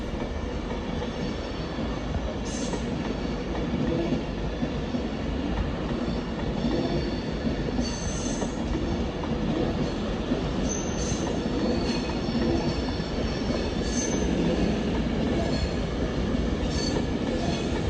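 An Avanti West Coast electric passenger train, 390119, rolls past steadily at Primrose Hill, London, with a continuous rumble, rhythmic wheel clatter and occasional high squeals from the rails.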